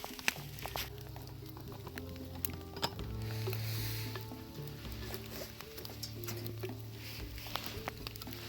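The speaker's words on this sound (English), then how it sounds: "Well, it's turned to all rain now" Steady rain patters at a winter bushcraft camp, faint and continuous, with scattered sharp drips and taps over a low background hum.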